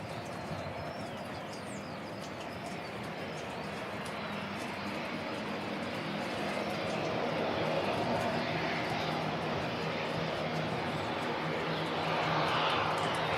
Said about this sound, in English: It looks like the Herc is heading down to the engine run area.